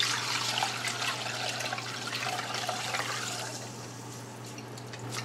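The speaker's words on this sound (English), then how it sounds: "I'll take a bigger bowl and just take the lid off of this and then just strain it" Cold brew coffee poured through a strainer into a larger bowl, a steady close splashing trickle of liquid running throughout and easing slightly toward the end.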